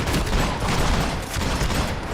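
Dense, continuous gunfire in the video game Max Payne 3, a loud barrage of overlapping shots and rumble with no pauses.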